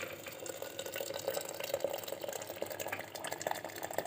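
Hot water pours softly into a pot of fava beans being cooked at home for ful medames, making a quiet, steady liquid rush with faint bubbling throughout.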